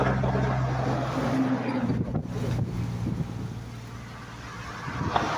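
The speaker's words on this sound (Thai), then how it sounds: "วันนี้ลมค่อนข้างจะแห้งครับผมลมแรงขนาดครับวันนี้" Strong, dry wind gusts beside a canal during roadside fishing at Nong Suea, a steady close roar buffeting the microphone for the whole stretch with low rumbling underneath and no speech.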